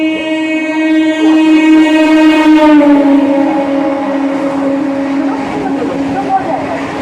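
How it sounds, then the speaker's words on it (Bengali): A passing train at an Indian railway station platform, steady loud rumble with a sustained horn-like tonal blare throughout, and people talking faintly in the background. "through train will be passing from platform number 3"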